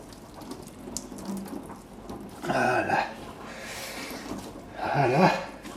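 Liquid drips and runs from raw grated potatoes squeezed by hand, a faint trickling with two brief, louder splashing bursts, and no talk over it.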